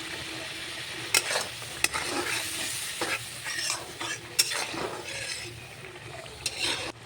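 Spices sizzle steadily in a hot pan while a utensil scrapes and stirs, with a few sharp clinks against the pan.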